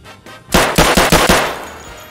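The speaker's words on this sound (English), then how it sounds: "Who's shooting at me?" Rapid gunfire in Escape From Tarkov, a loud close burst of about five sharp shots in quick rhythm after a quieter pair of distant shots, then fading echo.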